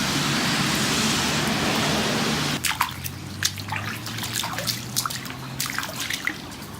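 Floodwater pooled after a short, heavy downpour outside a workshop, first a steady broadband wash of rain and running water, then quieter drips and trickles scattered over a low hum.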